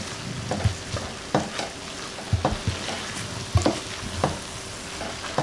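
Ground beef and tomatoes fry in a pan with a steady, close sizzle, broken by the scrape and clack of a spoon stirring several times.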